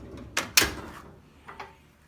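A drawer slides shut on a Harbor Freight 72-inch toolbox that holds welding gear, with two sharp close knocks followed by fainter rolling and latching sounds, no talking.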